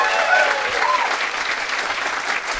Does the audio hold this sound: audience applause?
yes